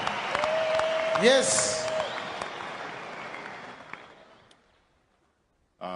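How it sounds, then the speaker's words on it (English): A church congregation breaks into loud, sustained applause, many hands clapping together with voices and a whistle mixed in, then fading out to near silence before a voice begins. "Let's clap hands for Brethren Memory."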